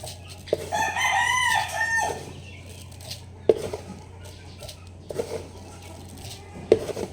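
A backyard rooster crows loudly up close, followed by scattered hen clucks and short bird calls against a low background hum.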